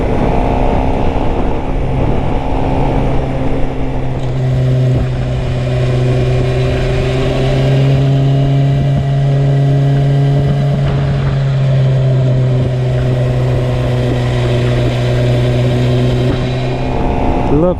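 Motorcycle engine droning steadily while riding uphill, a sustained revving hum that rises and holds through the gears, heard from the rider's position with heavy wind noise and talking over it.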